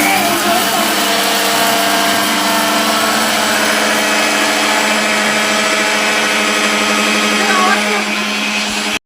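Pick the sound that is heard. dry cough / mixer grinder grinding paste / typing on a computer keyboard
mixer grinder grinding paste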